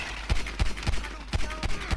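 Gunfire in the video game GTA 5: about seven sharp, punchy shots spaced roughly a third of a second apart in a steady rhythm, loud and close over a low background hum, with no talking.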